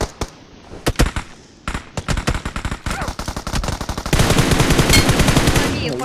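Gunfire from a video game comes as rapid automatic bursts and single sharp shots. Short volleys are separated by brief gaps, then a dense sustained burst closes out the stretch. No one speaks over it.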